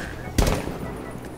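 A single sharp gunshot in the video game Rainbow Six Siege, loud and abrupt, followed by a short decaying tail over the ongoing background of the match.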